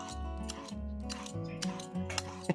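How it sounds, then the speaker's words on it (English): A handheld vegetable peeler strips the skin off a zucchini, giving repeated short scraping strokes in a steady rhythm, close and fairly quiet. "we're going to take a handy dandy potato peeler or a veggie peeler, and we're going to take the skin off"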